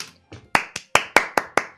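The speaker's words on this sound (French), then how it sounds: "Applaudissements pour le Yop." Several sharp hand claps in a quick, uneven series, close and dry, about seven distinct smacks over under two seconds as brief applause for an Iop character from the game Dofus.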